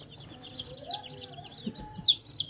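Four-day-old chick in a warmed brooder peeping with repeated thin high chirps, close by and fairly steady, while someone talks over them.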